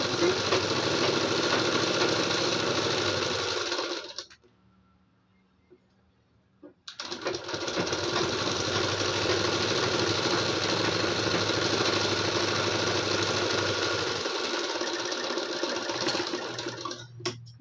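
A sewing machine stitching blouse piping runs in a fast, steady mechanical whir, loud and close, stops for about two seconds of near-silence, then resumes the same continuous hum to the end.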